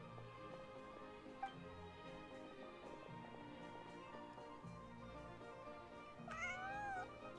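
A cat meowing in the Genshin Impact video game, a few soft mews over a layered game music background, with a longer, louder wavering meow near the end.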